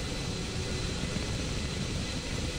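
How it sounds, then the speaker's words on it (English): Torpedo bomber aircraft in a space combat video game, a steady dense engine roar with broadband hiss, close and constant throughout without any voices. "I'm in a torpedo bomber right now"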